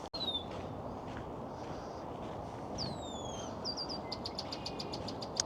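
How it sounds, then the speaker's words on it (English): Red-winged blackbirds call outdoors in the evening, giving sharp, high whistled notes and a run of rapid clicking chips over a steady, noisy background. "That's all it is out here tonight. Red-winged blackbirds."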